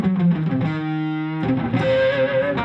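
A distorted electric guitar plays a descending blues lick with palm muting, the notes held and bending, with chorus-like effects, loud and up close and heard on its own.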